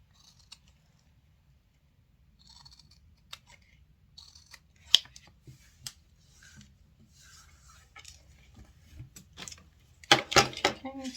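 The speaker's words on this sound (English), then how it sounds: "I'm going to very carefully trim some of the bulk off these corners here." Scissors trimming the fabric corners of a sewn minimalist wallet, scattered soft snips followed by a quick burst of louder, close cuts near the end, under a faint voice.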